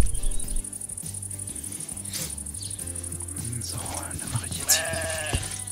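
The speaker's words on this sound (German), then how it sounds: "Schaf, Schaf, Schaf." Sheep bleating in the Minecraft video game, a few short bleats near the end over a steady high chirping ambience and low background music.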